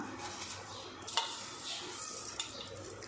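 Faint sizzling as rice is stirred into masala in a pan for vegetable biryani, with soft stirring scrapes and an occasional light clink of a utensil, quiet and close.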